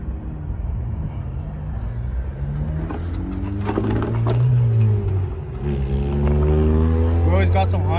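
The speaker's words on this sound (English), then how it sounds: "Got some Honda here that passes by every once in a while." A Honda car passes by outdoors, its engine swelling and fading as it goes, heard beneath ongoing conversation nearby.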